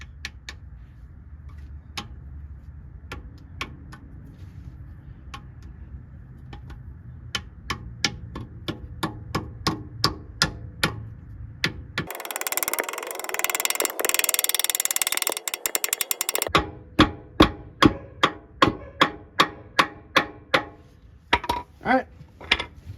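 Steady metallic tapping, a hammer striking a socket to drive a transmission seal into a Ford Crown Victoria in a regular rhythm, with a loud burst of broadband noise in the middle before the taps resume.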